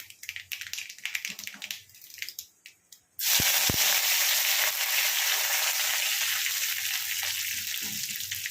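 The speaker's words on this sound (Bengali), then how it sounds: "অল্প একটু সর্ষে ফোড়ন, এটা আমার গাছের কারি পাতা" Mustard seeds and fresh curry leaves hit hot oil for an upma breakfast, setting off a sudden loud, steady sizzle that holds strong after a few quieter kitchen clinks.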